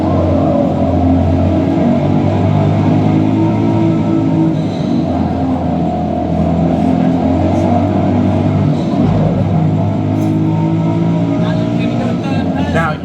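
A race car in Forza Motorsport holds a loud, steady engine drone while lapping a track, pitch shifting gently with gear changes, and a narrator talks over it.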